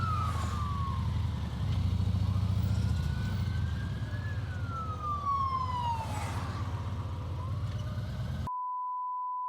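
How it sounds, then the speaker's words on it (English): A police-style emergency siren wails and sweeps up and down for several seconds, heard from a moving motorcycle over steady engine and wind rumble, ending in a sudden cut to a flat tone. "Even like sirens, things like that, I still hear it."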